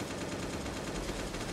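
Sustained automatic gunfire from a held trigger in the Last Day game, a dense unbroken rattle of rapid shots filling the whole moment, steady and loud.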